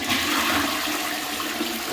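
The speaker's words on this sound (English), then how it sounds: "when the toilet's flushed" A toilet with a failed rear seal is flushed, giving a loud, close, steady rush of water that lasts the full two seconds with no voices.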